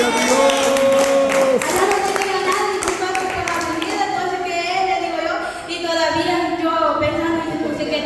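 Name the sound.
church congregation clapping as offering to God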